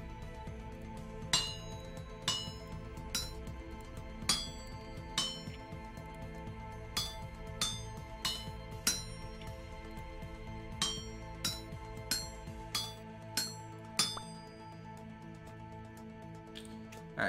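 Metal struck with a hammer on an anvil in Vintage Story rings out in about fifteen sharp, bright clinks at a steady, slightly irregular pace, fairly faint over a low background hum.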